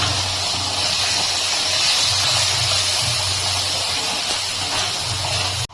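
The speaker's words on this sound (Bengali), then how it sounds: "এখন আমি ভালো করে কষিয়ে নেব।" Spices such as turmeric, chilli, coriander and cumin powder sizzle with salt in a pan for a cabbage dish, giving a steady, loud hiss that runs unbroken for several seconds, with no voice.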